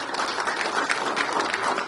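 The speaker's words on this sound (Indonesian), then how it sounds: "Tepuk tangan dong." An audience at a gathering on political morality applauds, dense steady clapping from many hands that sounds near and full and runs through the whole brief moment with no voices over it.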